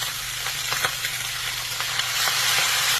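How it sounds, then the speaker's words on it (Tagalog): Pork pieces, pork caul fat and rendered lard sizzle and fry in a very hot wok, a steady loud crackling hiss with scattered sharper pops, growing slightly fuller toward the end, with no voices. "Sa isang wok na napakainit at napakaraming karanasan, ilagay natin yung bulaklak ng baboy at yung pinakuluan nating karne ng baboy."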